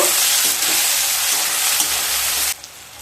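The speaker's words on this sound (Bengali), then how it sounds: "পেঁয়াজগুলোকে হালকা ভেজে নেব।" Onion and slit green chillies fry in a pan for a drumstick curry, a loud, close sizzle with stirring scrapes that drops off abruptly near the end.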